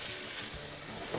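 Shrimp, scallops and crawfish sizzle in olive oil over high heat in a pan, a steady close hiss of frying without any talking.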